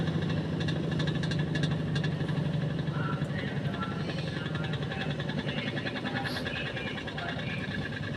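A washing machine motor refitted to work as a dryer motor runs steadily with a constant mechanical hum and vibration, close by and unchanging throughout, with a voice faintly audible over it.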